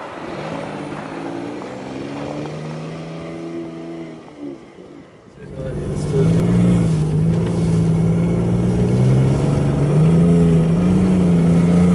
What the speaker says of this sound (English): That sort of 3-cylinder makes a good sound of 3-cylinder.